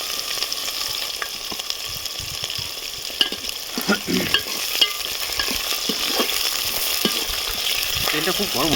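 Onions fry in very hot oil with a dense, steady sizzle, and stirring and scraping knocks recur throughout.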